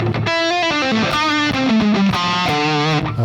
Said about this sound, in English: I've chosen the Soldano amp drop D tuning on maximum gain